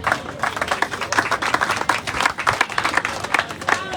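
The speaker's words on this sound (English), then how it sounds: "And I think that needs a hand of applause for that." An audience at a guest-speaker event at a skills training center claps in a dense, uneven burst that continues steadily for about four seconds, close and moderately loud with no talk over it.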